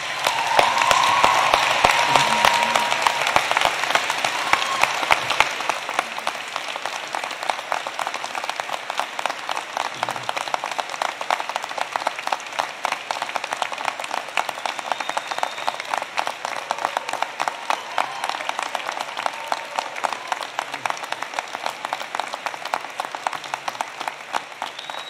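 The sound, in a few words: convocation audience applause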